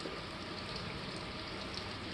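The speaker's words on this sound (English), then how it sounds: "it's raining. Been raining for a couple hours off and on now" Rain falls in a soft, even hiss that holds steady and quiet throughout, with no voices.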